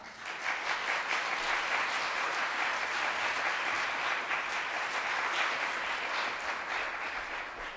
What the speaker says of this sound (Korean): 큰 사랑과 축복의 격려의 박수로 우리 함께 맞이하겠습니다